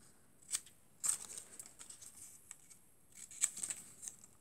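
Scissors snip through paper while a greeting card is being made, giving a few sharp, close cuts spaced apart with light rustling between them.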